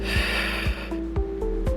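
Short, forceful exhales during a Pilates exercise, several sharp snort-like breaths a fraction of a second apart, close and fairly loud over a low steady background hum.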